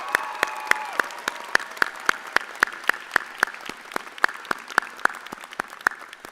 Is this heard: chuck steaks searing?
no